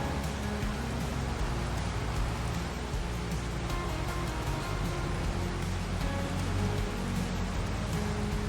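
Steady rain in Farming Simulator 25 on the Riverbend map, an even, dense hiss of falling drops holding constant throughout with no breaks.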